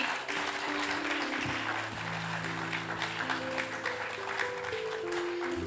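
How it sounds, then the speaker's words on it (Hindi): Applause rises from the audience at a stage reading event as performers are invited on stage. The clapping is soft and fairly distant, with sustained musical tones humming underneath. "तालियों की गड़गड़ाहट कम हुई।"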